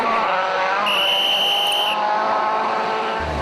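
Citroën C4 World Rally car spinning a full 360 on a Rally Wales Great Britain stage: a loud, continuous roar of engine and tyres with a high squeal of skidding rubber rising in the middle, then fading.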